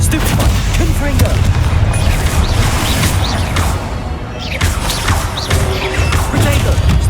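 Rapid spell blasts from Confringo and Incendio in the Hogwarts Legacy video game, a dense stream of booming impacts and crackling bursts over a continuous rumbling battle bed.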